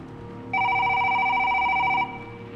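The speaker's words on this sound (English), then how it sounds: "Then the phone rang." An old-style telephone rings once in a horror story, a single sustained electronic trill lasting about a second and a half, clear and close against a quiet background.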